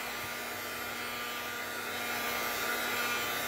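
A hair dryer drying chalk paint on a DIY faux stone, concrete-effect project, blowing as a continuous loud, even hiss and whir up close with a steady tonal hum, no talk.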